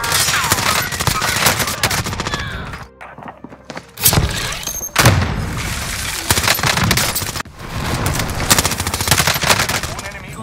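Heavy automatic gunfire in Call of Duty Warzone Pacific, loud and dense with rapid bursts, a brief lull midway, then sharp single shots before the firing resumes, with speech underneath.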